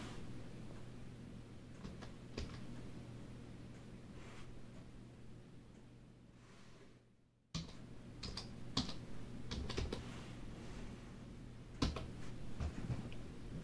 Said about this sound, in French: Donc je vais essayer de le retaper de mémoire